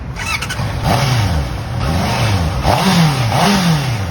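Honda CBR 650 motorcycle engine starting and then revving in several quick blips, each rising and falling in pitch, loud and close with no talk.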